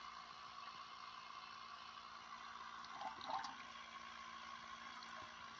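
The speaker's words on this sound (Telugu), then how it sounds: "ఇక మళ్ళీ ఆన్ చేస్తే మళ్ళీ వస్తుంది వాటర్." Faint, steady hiss of water running, with a short splashing burst partway through.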